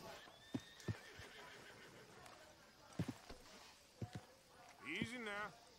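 A horse in Red Dead Redemption 2 gives a few sharp, close hoof thumps, then a clear, wavering neigh near the end, with a voice talking in between.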